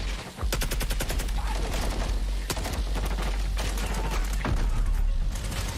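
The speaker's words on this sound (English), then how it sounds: "Ooh, nice explosion." Explosion and gunfire in a video game trailer: sharp loud blasts and rapid crackling shots over a low rumbling bed, with a big burst near the start and another toward the end.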